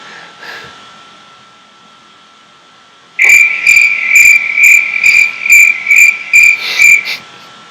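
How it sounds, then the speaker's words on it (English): A cricket chirping sound effect starts abruptly after a quiet stretch: a loud, close run of rapid, evenly spaced chirps that repeat steadily until the clip ends. "I gave myself the cricket."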